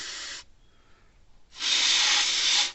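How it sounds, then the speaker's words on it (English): Contact cleaner sprays onto the contacts of an old Sears mechanical electric fence charger in two close hissing bursts, a short one, then a pause and a longer, louder blast. "This is just contact cleaner, nothing. It's not lubrication of any kind yet."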